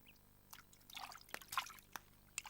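Water splashed and sprinkled by hand near a new scooter or motorbike, a run of soft irregular splashes and drips over about two seconds with a few sharper spatters, fairly quiet, no talking.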